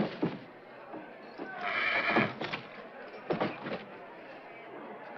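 A rodeo bronco neighs in a loud, shrill whinny, joined by scattered hoof clatter and thumps, with a voice heard briefly.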